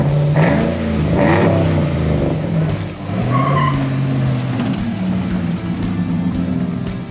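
A car on Mickey Thompson tires drives at speed with a loud engine drone and tire noise on the road, the engine note rising and falling steadily throughout.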